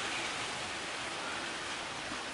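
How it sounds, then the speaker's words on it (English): Rain falling during a storm, a steady, even hiss of downpour with no breaks, faint and distant, continuing alone without voices. "Thank God for the rain."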